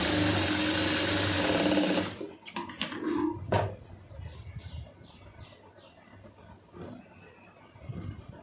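A sewing machine stitches poonam saree fabric in a fast, steady whir that runs loud and close for about two seconds, then stops, followed by handling clicks and quiet rustling of cloth.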